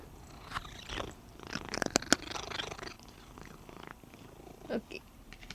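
A cat purrs up close with a soft rumbling rhythm, broken by faint rustles and small mouth sounds, fairly quiet throughout.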